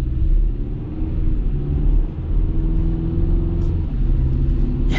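The four-cylinder engine of a 2024 GMC Canyon pickup truck accelerates with a steady low rumble heard from inside the cab, smooth and continuous without talk.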